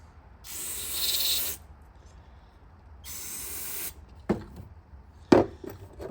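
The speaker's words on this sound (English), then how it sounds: "Let that dry off for a second and spray this one." Two long hissing bursts of aerosol cleaner sprayed on Yamaha motorcycle fuel petcock parts, each about a second, separated by a pause, followed by a few sharp knocks and handling clatter.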